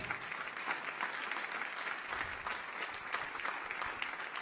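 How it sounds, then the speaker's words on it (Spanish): A church congregation claps together in praise, a continuous, fairly quiet and distant wash of applause that stays even throughout. "Dele un aplauso al Señor entonces."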